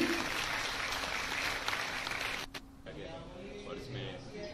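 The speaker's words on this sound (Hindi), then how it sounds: "जोरदार तालियां होनी चाहिए।" Applause from an audience seated at an event in honour of an executive magistrate, a dense steady clapping wash that cuts off abruptly partway through, followed by quieter room sound with a voice speaking.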